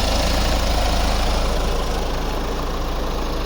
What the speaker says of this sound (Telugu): ఇంజన్ సౌండ్ చూడండి, కొత్త వెహికల్ సార్.